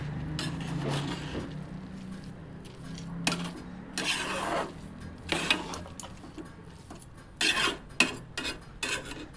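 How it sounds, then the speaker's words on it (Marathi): A spoon scrapes and stirs carrot halwa with sugar in a metal pan, producing intermittent rasping scrapes and clinks in irregular bursts, close and fairly quiet, with no talk. "आता असं मिक्स करून घ्यायचं आहे आपल्याला सर्व साखर त्यात मिक्स झाली पाहिजे"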